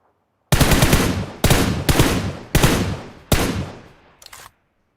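Four loud bursts of automatic gunfire from the PUBG Mobile game, each a rapid rattling volley fading out, followed by a short final burst, close and without talk.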